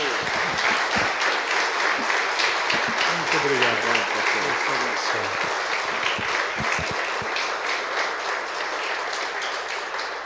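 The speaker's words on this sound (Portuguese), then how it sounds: "Palmas para Jesus." Warm applause from a church congregation during a service, steady clapping throughout that fades slightly toward the end, while someone speaks briefly over it.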